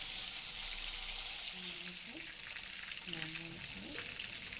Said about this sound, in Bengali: এবার মাখানো মাংসগুলো কড়াইতে এক এক করে ছেড়ে দিলাম।